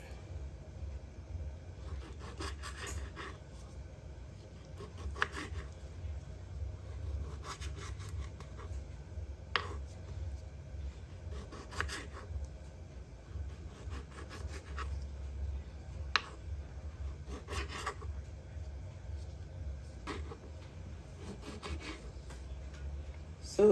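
A knife dices cherry tomatoes on a cutting board, giving quiet rubbing strokes and irregular light taps spread over about twenty seconds against a low steady background hum.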